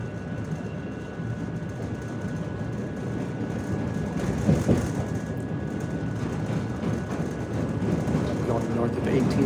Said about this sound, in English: The Green Line is an entirely elevated train system.